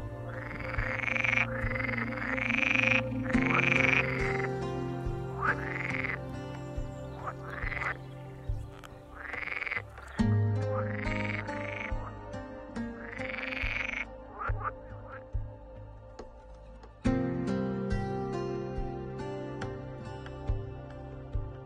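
Male green frogs croak in chorus, a dense overlapping stream of repeated calls that sounds loud and close and keeps going steadily.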